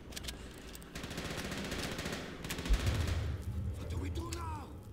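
Rapid machine gun fire and scattered gunshots from the World War II shooter Call of Duty: World at War, sustained in the background of a chaotic battle mix, with a louder burst near the middle and a person talking over it.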